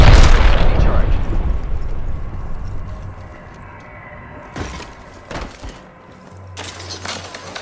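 An arc star grenade explodes in Apex Legends. A loud electric blast opens, and its crackling rumble decays over several seconds. Sharp bursts of game noise come later, then a steady hum.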